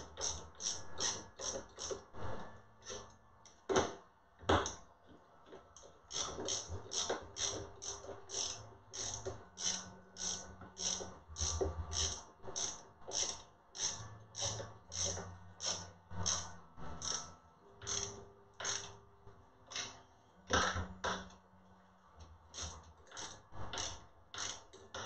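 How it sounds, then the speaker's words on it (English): A 3/8 nut driver ratchets nuts tight on a 3D printer extruder, with rapid rhythmic clicking in repeated bursts, close up and steady, with no talking. "we'll take the nut driver, the 3/8 nut driver, set it to tighten"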